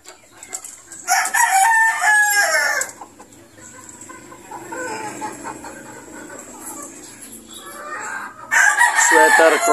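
A Sweater Cross gamefowl rooster crows loudly and close at a game farm, with bursts at the start and end and quieter clucking and farmyard sounds in between.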